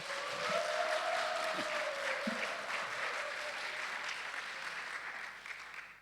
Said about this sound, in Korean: 우리 임 목사님 힘내시라고 하면 크게 한번 박수 쳐주세요